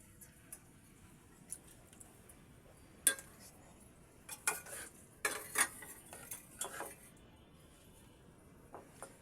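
A spoon scrapes and clinks against a pan as tomato paste is stirred and fried for a prawn bhuna. The strokes come sparse and faint over a quiet background, with a short cluster of louder knocks partway through.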